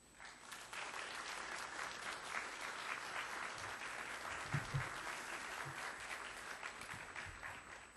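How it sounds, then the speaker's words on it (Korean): Steady congregation applause at a Sunday church service welcoming a pastor and Hebrew University professor to the pulpit in Milan, a dense wash of many hands clapping at moderate distance, sustained evenly throughout with a few louder low thumps near the middle. "우리 박수로 환영하겠습니다"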